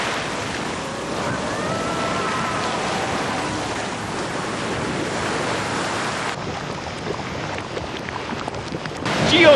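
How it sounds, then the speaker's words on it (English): A geyser erupts, boiling water and steam bursting out in a steady, loud, hissing rush that runs unbroken and swells louder at the very end. "This is a geyser."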